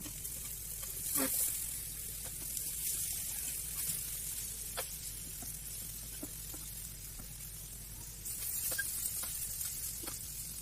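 Yam pieces fry steadily in a pan with a constant hiss of hot oil, and a few sharp pops and clinks from stirring break through the sizzle.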